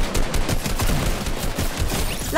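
Dense, continuous gunfire from the video game Fortnite, rapid overlapping shots and bursts filling the whole moment at close, loud level with no talk over it.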